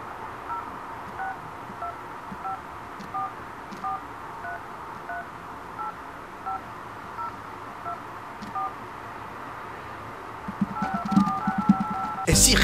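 Telephone keypad tones as a number is dialed, a long steady run of short beeps in an even rhythm, moderately loud and clear, with a burst of louder noise at the very end.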